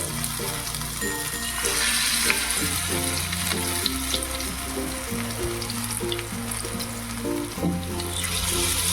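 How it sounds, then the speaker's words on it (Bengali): Small jukti flower fritters frying in hot oil over a low to medium gas flame, a continuous close sizzle and crackle with a steady musical backing throughout. "লো টু মিডিয়াম ফ্লেমে বড়াগুলো ভাজবো"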